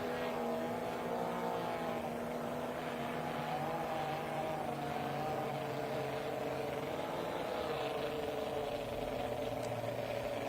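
A 1-liter class racing boat idles back to the pits after a heat on San Diego's Mission Bay, its engine a steady droning hum held at constant loudness for the whole stretch, with only faint commentary beneath.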